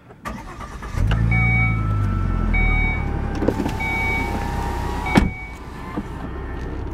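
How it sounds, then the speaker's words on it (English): A Volvo S60 Polestar starts up with a brief whirring crank that catches into a deep, steady idle rumble, loud and close, with a couple of sharp clicks and a slight revving swell later on. "But all it takes is the start of the motor"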